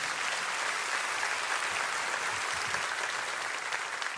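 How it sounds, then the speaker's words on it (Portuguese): A church congregation applauds in a sustained, even wash of clapping from many hands, moderately distant and steady from start to finish. "Pode aplaudir ao Senhor?"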